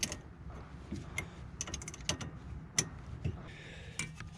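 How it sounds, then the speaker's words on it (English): A wrench tightens the 10mm brake bleeder screw on a 2007 Honda Accord rear caliper, making a run of faint, close ratcheting clicks in quick irregular bursts. "Once you're done, tighten up the 10mm bleeder screw."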